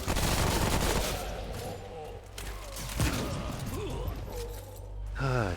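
Sniper fire and dense gunfire in the video game Remnant, loud and continuous with heavy low rumble, a sharp shot standing out midway through and a mechanical whir near the end.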